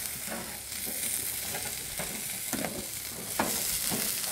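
Browned pieces frying in a pan hiss softly and steadily while being flipped over, with several light scraping clatters from the turning spaced through the faint sizzle.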